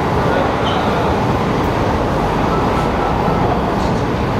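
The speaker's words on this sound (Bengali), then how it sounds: "110-এ আমাদের ট্রেন ছুটে চলেছে শিয়ালদার দিকে" A Bongaon-Sealdah AC local train running fast at about 110, giving a loud, steady rumbling roar of wheels and carriages with no breaks, heard from inside.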